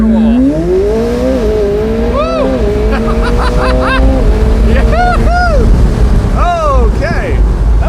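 A 2025 McLaren 750S launches at full throttle, its engine revving and climbing through the gears under hard acceleration, loud and close, with repeated rising and falling whines.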